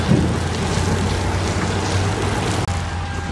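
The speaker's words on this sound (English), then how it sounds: "I was just getting wet because the wind's just blowing on my face" Steady wind gusts and rain roar outdoors at a gas station under a small overhang, a dense, continuous wash of noise close to the microphone with no voices.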